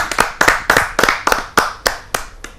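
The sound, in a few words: audience applause for a poet at a kavi sammelan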